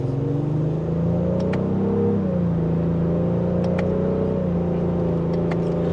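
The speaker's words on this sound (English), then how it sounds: "This is a very powerful engine that was first introduced in the Tundra." Steady engine drone of a 2025 Lexus GX550 SUV accelerating through gears, rising in pitch, dipping briefly at shift points, then climbing again; a continuous, fairly loud interior hum with no speech.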